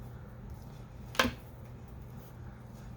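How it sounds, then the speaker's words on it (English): One quick, crisp snip from a pair of ordinary non-fabric scissors cutting a craft material, a single short cut in an otherwise quiet room. "These are not fabric scissors, so they don't cut the best, but they cut good enough"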